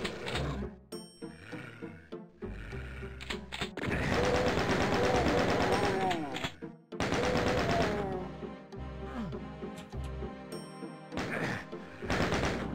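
Gunfire from enemies attacking the player in the first-person shooter DOOM II, with dense bursts of rapid shots, crashes and game effects in a loud, busy stretch, broken by brief pauses.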